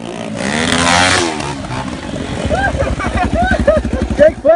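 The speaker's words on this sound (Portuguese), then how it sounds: "Minha moto sem pneu, velho, batendo demais." Honda Tornado motorcycle engine revs loudly and close during a mud drag race, a throbbing, pulsing exhaust note that rises and falls under excited shouting voices.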